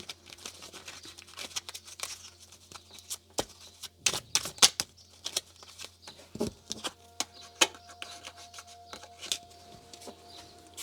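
Victorian oracle cards shuffled and one drawn at the end of a reading, with soft crisp card riffles and rustles, light taps and a few sharp clacks in an otherwise quiet room.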